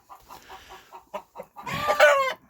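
A laying hen gives a quick run of soft, rhythmic clucks, and then a rooster breaks in with a louder, drawn-out squawking call. The chickens are close by in winter, and no one speaks.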